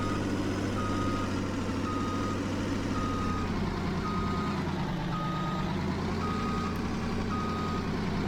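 Truck backing a trailer into a barn on a farm, steady diesel engine rumble under a regular high reversing beep repeating about every second, continuous and fairly close.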